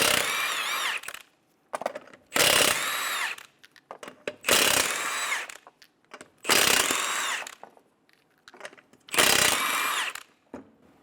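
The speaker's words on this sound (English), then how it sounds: "Remove the 5 21mm lug nuts." Five 21mm lug nuts on a Nissan Altima wheel being spun off with a power tool: five loud, close whirring bursts of a second or two each, separated by short pauses with light clanks.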